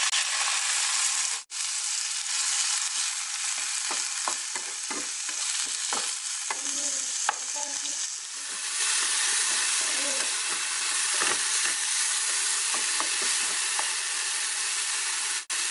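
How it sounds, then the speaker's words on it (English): Cherry tomatoes hit a hot frying pan with a steady, close sizzle and hiss, broken by scattered spatula scrapes and stirring taps throughout; no one speaks. "Now I'm going to add the cherry tomatoes."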